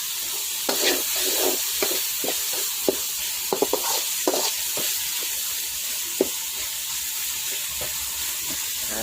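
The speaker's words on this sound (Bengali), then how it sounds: "এই যে একটু ভালো করে একটু টমেটোটা কষিয়ে নিব" Tomatoes with a coriander and cumin spice mix sautéed in a pan for an egg dish, crackling sizzle punctuated by repeated spatula scrapes and clacks against the pan, close and fairly loud, no talking.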